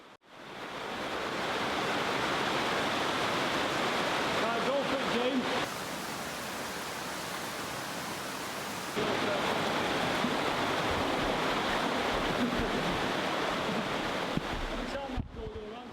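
Loud, unbroken rushing water fills an underground river as someone wades through the strong flow, a dense close roar that barely changes throughout.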